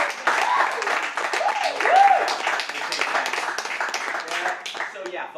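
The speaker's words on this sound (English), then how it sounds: "By a show of a round of applause." An audience gives a round of applause, a dense patter of many hands swelling briefly and then tapering, with voices mixed in.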